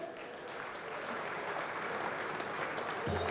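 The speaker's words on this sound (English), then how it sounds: "Please keep clapping." An audience at an award ceremony applauds in a dense, sustained wash of clapping, heard from within the hall at an even level for several seconds.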